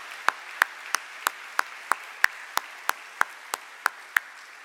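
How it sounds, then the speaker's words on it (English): Single claps ring out at a graduate convocation for professors, about a dozen sharp, evenly spaced hits in a steady beat, clear against a quiet room. "So, round of applause for them."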